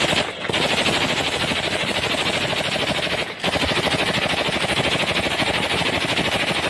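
Dense, continuous rattling bursts of distant gunfire with heavy thuds of recoilless rifle explosions mixed in, sounding distant yet relentless, with two brief dips in the racket.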